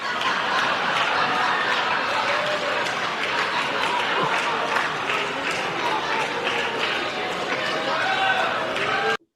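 Studio audience clapping steadily throughout, a dense broadband patter with some crowd noise and scattered laughter, cutting off abruptly at the end.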